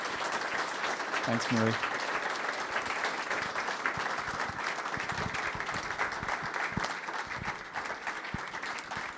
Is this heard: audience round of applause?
yes